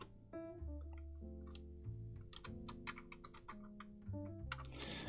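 Keys on a computer keyboard click in irregular bursts of typing, faint beneath a steady background of tonal music, with no one speaking.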